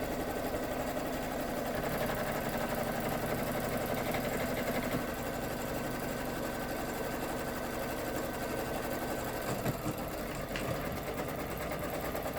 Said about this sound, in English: we're just going to hit start and allow that to stitch down